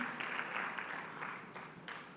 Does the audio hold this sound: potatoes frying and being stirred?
no